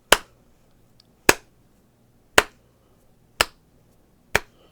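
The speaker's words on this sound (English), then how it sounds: "he's giving you the golf clap" A slow, deliberate golf clap during a tabletop role-playing session: five crisp, isolated claps about a second apart, close and sharp against near silence.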